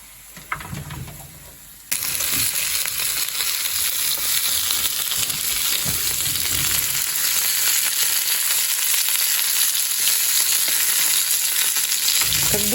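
Pelmeni dumplings fry in a pan, starting quietly and then bursting into a loud, continuous crackling sizzle that stays close and steady to the end, with no talk.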